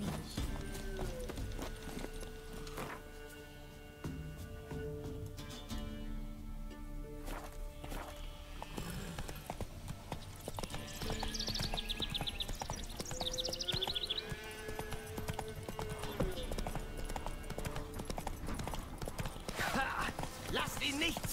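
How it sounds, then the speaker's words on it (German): Rhythmic hoof clip-clops from a horse in The Witcher 3, steady under background music and other game sounds, with some talking. "Ein Pferd. Pferdchen."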